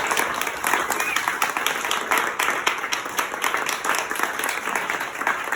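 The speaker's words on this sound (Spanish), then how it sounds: "Un aplauso, por favor." An audience at a novel presentation in a cultural forum claps steadily and fairly loudly for several seconds, a thick, even wash of many hands with no talk over it.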